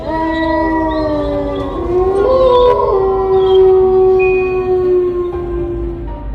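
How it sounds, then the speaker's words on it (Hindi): Cartoon foxes howl in a desert scene, several long wavering voices overlapping and rising and falling in pitch for about six seconds, loud and close with no talking. "अरे ये लोमड़ियों की आवाजें कहाँ से आ रही है"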